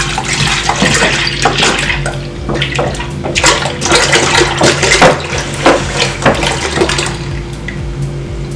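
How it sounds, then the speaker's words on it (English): Whole milk, just over two liters, pours steadily into a crockpot for yogurt, a loud continuous splashing stream with gurgling bursts throughout, no talking. "then pour your milk"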